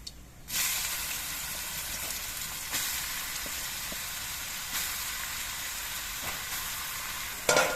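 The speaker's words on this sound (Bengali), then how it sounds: "এর মধ্যে আমি লাউগুলো দিয়ে দিচ্ছি" Bottle gourd pieces are dropped into hot oil tempered with radhuni, giving a sudden loud sizzle that settles into a steady, close hiss broken by a few scraping stirs, then a final clatter.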